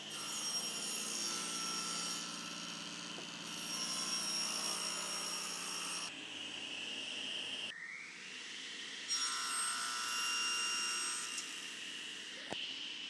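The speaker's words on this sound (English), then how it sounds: "you can put the blade underneath the tilt to cut underneath the corner" A table saw with its blade tilted runs steadily through sheet material at a bevel, giving a loud, continuous whine with shifts in pitch as the cut progresses and a brief change near the end.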